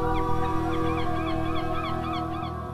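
Seabirds on uninhabited islands in the South China Sea: a dense flock calls continuously in honking, goose-like cries, loud and near over a steady low droning background.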